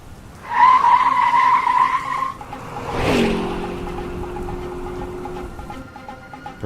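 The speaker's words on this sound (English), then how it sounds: "A battered old car goes up and over a slight hill in the road" A battered old car drives up and over a slight hill in the road, its engine droning steadily with a brief tire screech and a thump partway through, close and fairly loud.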